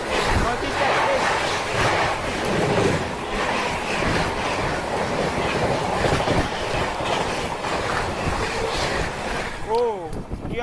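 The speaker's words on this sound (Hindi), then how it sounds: "नॉर्थ ईस्ट एक्सप्रेस आ रही है, क्या ही स्पीड है नॉर्थ ईस्ट एक्सप्रेस।" The North East Express, running from Kamakhya to Anand Vihar Terminal, passes at speed close by with a loud, continuous rumble and clickety-clack of wheels on rails. Voices are heard over it, and a horn sounds briefly near the end.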